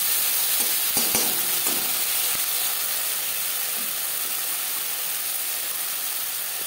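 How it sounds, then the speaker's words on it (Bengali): Ginger and green chili paste stirred with fried tomatoes gives a loud, continuous frying hiss, with a few sharp scrapes of the spoon early on before the sizzle settles to a steady, even wash. "আদা ও লঙ্কার কাঁচা গন্ধ যাওয়া পর্যন্ত নাড়াচাড়া করে নেব।"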